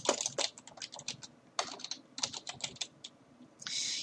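Rapid, irregular clicks of a computer keyboard as a paper title is typed, close and clear in bursts with short pauses, no voices.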